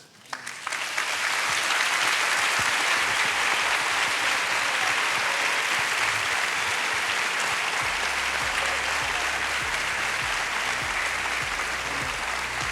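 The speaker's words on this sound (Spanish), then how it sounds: "ese aplauso sea para los pastores que no están aquí" An audience claps for pastors at a church conference, the dense, loud applause running steadily from start to finish with no talk over it.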